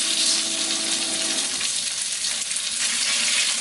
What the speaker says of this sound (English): I pour a little bit of vegetable oil in this frying pan.